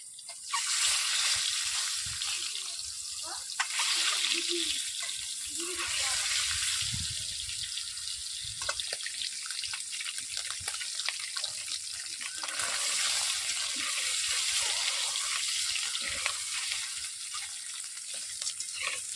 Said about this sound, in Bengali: ডিমগুলোকে ভাজার জন্য, আর মাখাতে হবে না, কড়াইয়ের মধ্যে দিয়ে দিচ্ছি।